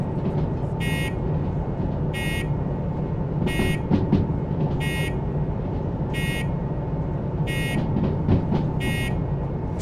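A train bell in the Derail Valley train simulator game repeats electronic tones at a steady pace, about once every second and a half, over a constant low rumble of the moving train.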